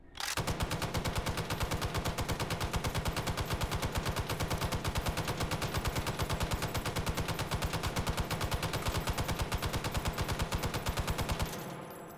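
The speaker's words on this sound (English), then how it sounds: "once you rack this bolt back and let go, it'll start firing immediately" An M60 machine gun in the VR game Hot Dogs, Horseshoes & Hand Grenades on HTC Vive fires one long, unbroken automatic burst of about eleven seconds. The shots are loud, rapid and evenly paced, then cut off abruptly.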